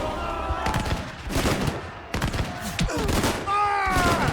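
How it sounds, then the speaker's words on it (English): A Battle of Waterloo reenactment as troops near the British line, with musket volleys crackling in dense, repeated bursts and voices shouting amid the loud gunfire throughout. "As they approach the British line, the first shots are exchanged."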